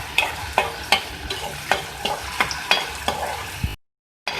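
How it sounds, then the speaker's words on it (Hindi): Onions frying lightly in oil for beef keema macaroni, a steady sizzle broken by about a dozen sharp rhythmic stirring scrapes up close, ending in a brief silence. "सबसे पहले हम ऑयल लेंगे और ऑयल में हम ऐड करेंगे प्याज। तो हल्का सा फ्राई कर लेंगे।"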